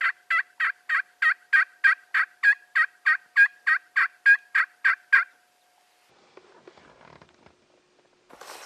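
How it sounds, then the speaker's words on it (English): A wild turkey gobbles in a rapid run of about sixteen evenly spaced, clear calls outdoors in Idaho, loud and close, followed by quiet with faint rustling. "we heard a little gobble"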